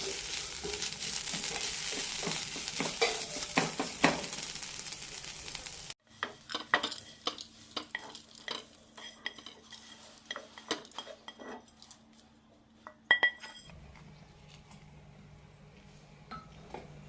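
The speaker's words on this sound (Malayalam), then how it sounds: "ഫ്ലെയിം ഓഫ് ചെയ്ത ശേഷമാണ് ഇളക്കി കൊടുക്കുന്നത്" Drumstick-leaf chutney mixture stirred in a pan with the flame off, giving a short burst of frying-like rustle, then scraping and clinking of a utensil against metal with gaps between strokes.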